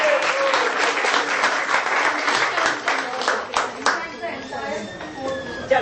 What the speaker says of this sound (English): give her a big round of applause for whatever she has done.